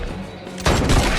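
Gunfire breaks out in a zombie film scene, a sudden burst of loud overlapping shots erupting after a brief quieter lull and continuing as a rapid volley to the end.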